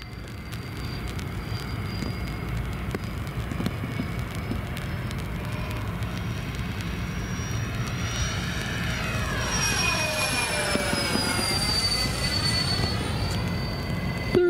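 A-10 attack jet in flight during inverted maneuvers, its steady engine roar filling the cabin throughout, with rising and falling whining tones sweeping across the middle as power shifts.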